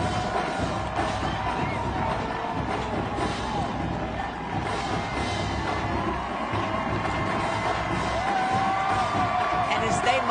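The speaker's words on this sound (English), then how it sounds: "March off to the applause and appreciation from their fans" A parade crowd at the 2023 Rose Bowl Parade cheers and applauds as Norfolk State University's Spartan Legion marching band passes; a steady, broad outdoor roar of clapping and whoops with voices mixed in.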